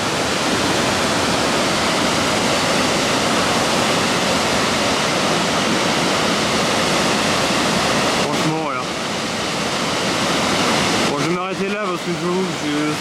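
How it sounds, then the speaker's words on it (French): A Norwegian waterfall roars loud and continuous. Toward the end, a person's voice briefly rises over the rushing water. "Magnifique cascade,"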